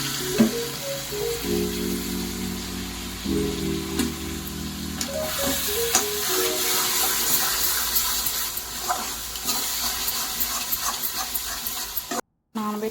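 Cauliflower and beans frying in a pan with salt and chili powder, a steady loud sizzle with a few scraping stirs and a brief drop to silence near the end.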